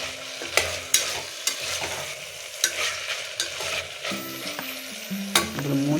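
Bitter gourd masala curry is stirred in a hot pan, with scraping strokes and occasional clinks of the spoon over a steady sizzle.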